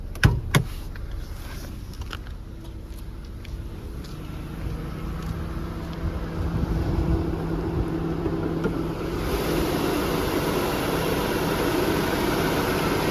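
A 2012 Geely Emgrand 7 (EC7) sedan with 55,000 km on it idles with a steady, even low hum and no knocking. The engine noise swells and becomes fuller and brighter partway through, close and continuous with no talking.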